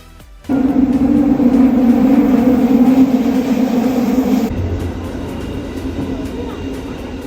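Loud, steady rumble of a Tokyo Metro subway train running on rails with a high whine, easing slightly partway through; no talking.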